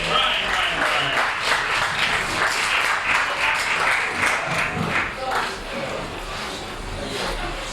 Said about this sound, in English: Our next comedian, give him a big hand, is Ryan Franzman.